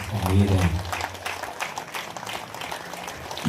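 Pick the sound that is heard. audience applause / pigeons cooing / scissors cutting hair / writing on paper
audience applause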